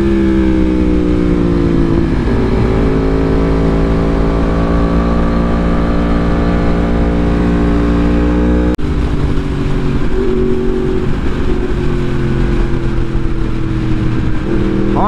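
A Yamaha R1 sport motorcycle carves through canyon roads, its engine loud and close with a steady high-revving drone that rises and falls through gear changes, with a sharp shift or blip near the middle.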